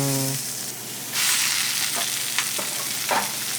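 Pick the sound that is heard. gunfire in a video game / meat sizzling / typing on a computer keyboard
meat sizzling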